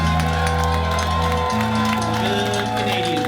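A concert crowd claps and cheers loudly and steadily throughout after a set, a dense wash of applause with whoops and a sustained musical drone underneath.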